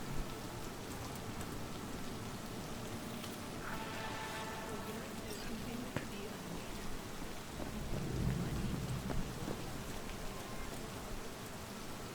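Heavy rain pours steadily in the video game Cyberpunk 2077, with low rumbles of thunder rolling underneath, one swelling louder near the end; no voices.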